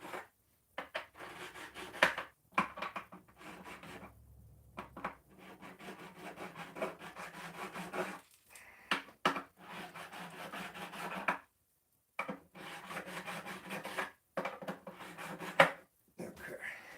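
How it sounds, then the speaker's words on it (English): Diamond-coated file rasping across guitar wood in irregular strokes, close and fairly quiet, with brief silences between passes and some slipping scrapes. "my diamond coated file"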